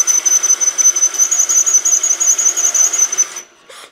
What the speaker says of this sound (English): I wanna really mark the holes more than drill them through